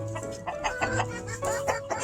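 Blueface chickens cluck repeatedly in a brood pen, close and busy, with sharp bursts from a rooster among them and no talking.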